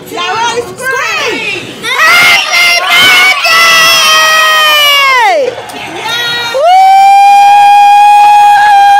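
Children scream and cheer loudly at a fourth birthday party, a crowd of young voices rising into sustained high shrieks, dipping briefly, then swelling again into a long continuous squeal.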